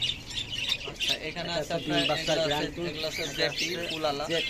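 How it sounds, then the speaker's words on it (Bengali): Yellow budgerigars chirp and squawk busily in a dense, continuous chatter at a bird sale, with voices talking over the flock throughout. "বাজরিকা রানিং হলুদ পাখি আছে"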